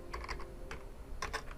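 Short bursts of typing on a computer keyboard while a folder name is entered during an Outlook calendar setup, with light, quick keystrokes in two clusters over a faint steady background and no talking.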